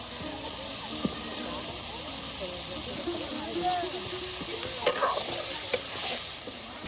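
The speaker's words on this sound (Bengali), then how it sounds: "এই যে মাংসটা একদম মশলার সাথে আপনার কষানো হবে।" Pigeon meat stir-fried with spices in a pan, giving a steady close sizzle and hiss with scraping stir strokes throughout, while voices talk faintly in the background.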